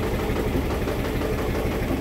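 A new Suzuki Thunder motorcycle engine idles steadily at close range, a continuous even rumble with a slight knocking texture and no talk over it.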